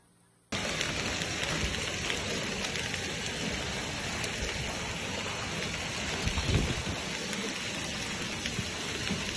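Heavy typhoon rain pours down in the Philippines, a dense, steady, loud hiss of falling water that starts abruptly and continues unbroken with no voices.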